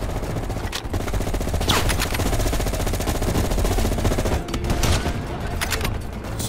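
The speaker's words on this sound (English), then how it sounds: "Take out these machine gunners" Sustained machine gun fire in the video game Call of Duty: Cold War, a loud, continuous rapid rattle of automatic bursts with a few heavier shots punching through, no voices over it.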